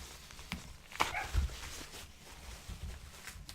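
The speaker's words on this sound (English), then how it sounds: "You can hear my dog outside." A dog outside lets out a few faint, distant barks and whimpers, including one short burst near the start, over a quiet room background with no talking.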